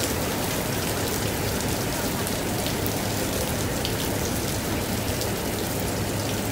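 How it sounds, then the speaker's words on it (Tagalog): Heavy rain pours steadily onto a street, a dense constant hiss and patter with no pauses, loud and close throughout. "Sobrang lumakas ang ulan."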